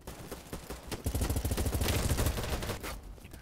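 Rapid automatic weapon fire in the first-person shooter Battlebit Remastered, a dense, loud burst of shots swelling in the middle amid hectic battle noise.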